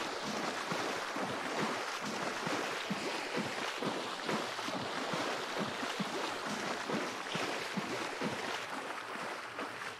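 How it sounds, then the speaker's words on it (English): Sprinting through water in Hunt: Showdown gives a loud, continuous splashing and sloshing, with rhythmic watery footfalls throughout and no talk over it. "Treading water while you're sprinting is so much louder."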